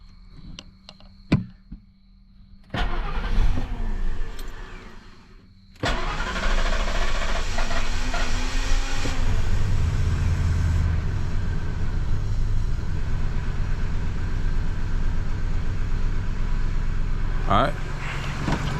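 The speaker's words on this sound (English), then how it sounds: "Let's crank this thing up and see what's going on." A 10th-generation Ford F-150 pickup truck engine cranks with a few clicks and a brief whir, then catches and settles into a loud, steady running rumble up close, with a voice speaking over it.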